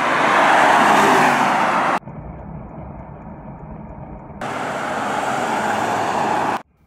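A car drives along a road, heard as a steady broadband roar that drops to a quieter, muffled hum for about two seconds before the loud rolling noise returns and then cuts off abruptly.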